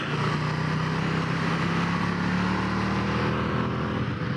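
A 2019 Indian FTR 1200S motorcycle decelerates on engine braking into a turn, its engine note droning steadily and slowly rising in pitch under rushing wind noise, heard from the rider's position.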